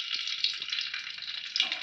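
Cauliflower pieces frying in hot oil make a bright, continuous crackling sizzle up close, with a sharper flare of spitting near the end.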